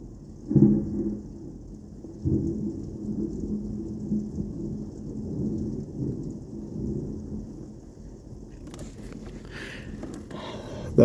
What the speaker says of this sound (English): It's a lot of heavy rain that's falling.